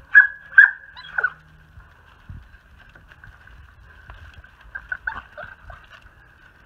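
Several puppies whimper and yip in a few short, high bursts at the start, then scattered softer whines follow, fairly close, with faint background noise and a little talk.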